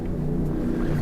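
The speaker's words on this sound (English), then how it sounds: "Boy, you can hear all the boats in the background." Steady low rumble of boat engines on the water in the background, droning continuously throughout with no talk.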